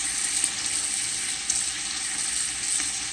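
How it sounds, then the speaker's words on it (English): Ground jalapenos and garlic sauteing in a pan with oil for collard greens, a steady bright sizzle and crackle with small spatter pops, close and continuous, no talking. "Saute all that stuff together with probably 4 tablespoons of garlic."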